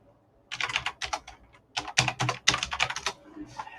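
Number keys are typed on a computer keyboard in quick clusters of close, crisp clicks, with short pauses between bursts.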